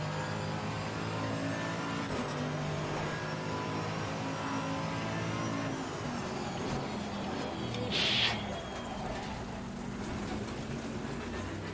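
Race car engine on the Misano circuit in the racing game Assetto Corsa Competizione, a steady droning whine held throughout, with a brief brighter burst of noise near the end.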